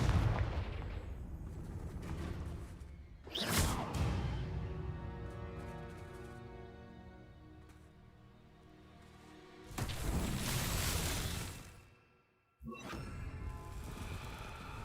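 Confringo spell blasts in Hogwarts Legacy, a few loud crackling explosive bursts spaced several seconds apart, each followed by a fading rumble, with no talking.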